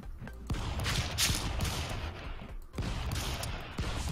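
Rapid gunfire rattles through a chaotic round of the stick-figure brawler Stick Fight, dense overlapping shots with sharp bursts near 0.5, 2.7 and 3.8 seconds, loud and continuous throughout.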